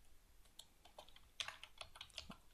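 Code is typed on a computer keyboard in a quick, irregular run of faint, close key clicks with no voices.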